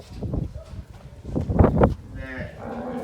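Cattle moo in the calf pen of a cow shelter at Rapar Panjrapole. Several close, loud, low moos rise and overlap, then a longer drawn-out call follows, with some talk and rustling around them.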